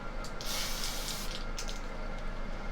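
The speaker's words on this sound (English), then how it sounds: "then you just start spraying it into his hair, or her hair" An aerosol hair color spray can hisses in a few short bursts into hair, close and steady, with brief pauses between sprays.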